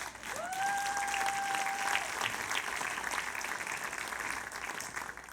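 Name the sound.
congregation applauding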